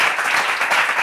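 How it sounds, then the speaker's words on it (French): Audience applause at a Bible quiz round, a short burst of dense clapping from many hands, loud and steady throughout. "On peut applaudir très fort."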